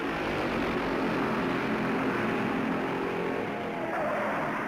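Stock cars roaring off the start of the 1964 Darlington Southern 500, a dense, loud, continuous engine roar from a pack of cars that stays steady throughout.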